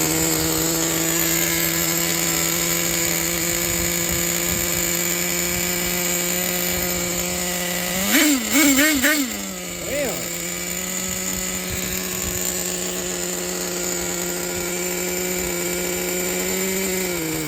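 Traxxas Nitro 4-Tec 3.3 nitro RC car engine idles too fast, enough to engage the clutch: a loud, steady high-pitched buzzing drone, with a brief revving warble around the middle before settling back to an even whine.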